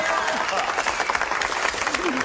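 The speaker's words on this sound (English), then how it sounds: "sure, you can applaud for that" A comedy show studio audience breaks into applause and cheering, a dense crowd sound with voices mixed through it.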